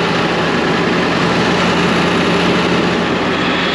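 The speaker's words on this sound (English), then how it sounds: "Revving itself up." A loud, steady engine drone with a low rumble from a 2001 International 4700 truck, running continuously at a constant pitch without clear rises.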